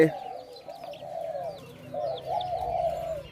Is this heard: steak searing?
no